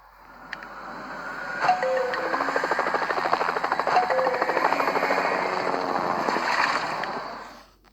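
Rapid rhythmic thumping of cartoon rescue helicopter rotor blades, growing louder as it nears, holding steady, then quickly cutting away, with a few tonal beeps mixed in.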